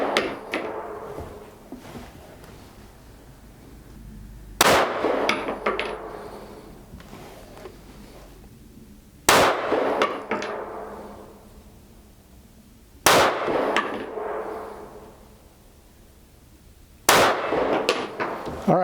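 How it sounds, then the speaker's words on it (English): Five sharp 9mm pistol shots from a Savage Stance fired at an outdoor range target, spaced several seconds apart, each a loud crack followed by a decaying echo. "we're going to take a shot at the little target up there to see how it does for accuracy"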